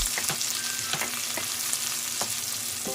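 A whole head of garlic frying in oil in a pan for a vegetable and pork sauté, giving a steady close sizzle with light scraping stir taps throughout and no talking.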